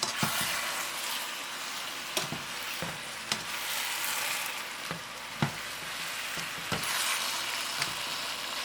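Chicken wings sizzle in a frying pan with a dense, continuous hiss, broken by regular sharp clacks and scrapes of stirring every second or so, up close and with no talking.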